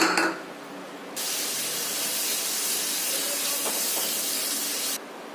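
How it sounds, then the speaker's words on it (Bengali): Prawns frying in a pan in a home kitchen: after a quiet second, a loud, steady broadband hiss of sizzling oil begins and runs evenly for about four seconds before cutting off abruptly. "অল্প চিংড়ি এখানে ভেজে নেব"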